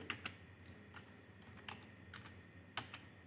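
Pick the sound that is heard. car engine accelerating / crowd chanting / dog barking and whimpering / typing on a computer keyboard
typing on a computer keyboard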